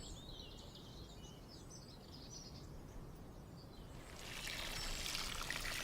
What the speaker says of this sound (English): I will now water that in.